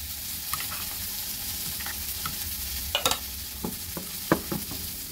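Paneer is mixed into mustard-poppy paste thinned with water in a pan, with soft wet stirring and scraping over a low simmering sizzle, and a few louder knocks of the spoon against the pan toward the end.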